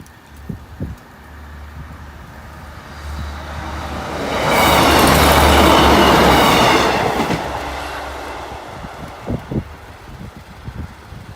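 A train passes Boultham level crossing, rumbling in from a distance, swelling to a loud roar with clattering wheels as it goes by close, then fading, with a low steady hum beneath and scattered clicks around it.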